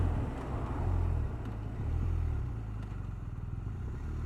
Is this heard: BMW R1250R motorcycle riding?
yes